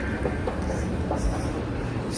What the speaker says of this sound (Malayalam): ഇതാണ് നമ്മുടെ ഫ്രാങ്ക്ഫർട്ട് ഹോപ്റ്റ്ബാൻഹോഫ്